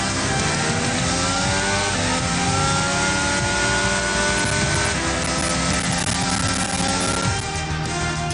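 A Formula 1 race car engine screams on the final lap in F1 22, a loud, steady high-revving whine with harmonics climbing through the gears, held close the whole time.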